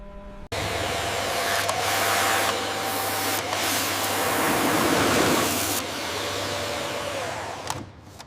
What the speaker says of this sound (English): I move the vacuum up onto the seat base